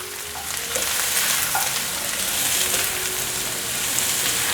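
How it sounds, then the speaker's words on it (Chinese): Zucchini, frozen chestnuts and celery stir-fried quickly in a hot wok for a vegan dish, giving a steady, loud sizzle with scraping stirs throughout, no voices. "黄节瓜、冷冻的栗子来一些，芹菜也一起放进来，快速翻炒"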